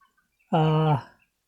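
A broiler chicken kept on litter inside a poultry shed gives one loud, close, drawn-out harmonic call that lasts about half a second, with near silence before and after.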